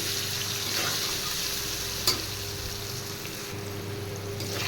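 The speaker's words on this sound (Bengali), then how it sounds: "এবার কেটে রাখা আলুগুলো ভেজে নিচ্ছি পরিমাণ মতো নুন আর হলুদ দিয়ে আলুগুলো ভেজে তুলে নেব" Cut potatoes with salt and turmeric fry in a pan, with a steady close sizzle and occasional stirring, plus a single sharp clink partway through.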